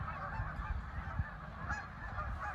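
Snow geese and Canada geese at a lakeside migration stopover in Malone, NY, a flock giving repeated overlapping honks, fairly faint and distant under a soft ambient hiss.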